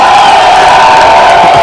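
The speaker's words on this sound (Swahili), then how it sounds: "Jipigieni makofi bana." A large rally crowd cheers, whoops and shouts in one loud, continuous roar at an outdoor political event, dense and sustained with no gaps.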